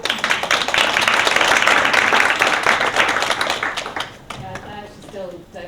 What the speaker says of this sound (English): Big round of applause for Emma Cannon.